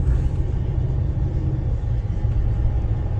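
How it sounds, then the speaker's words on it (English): A Maserati Quattroporte engine in comfort mode runs as a low, steady rumble, quiet and even throughout, heard from inside the car with no speech over it. "pretty quiet for a Maserati right now. It's not in sport mode, this is in comfort mode"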